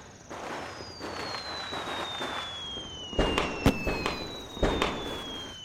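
Firecrackers burst in sharp bangs and crackles against a noisy outdoor background, with a thin whistling tone sliding across the scene.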